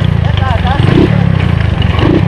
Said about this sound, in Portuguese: Olha a moto acelerando sozinho.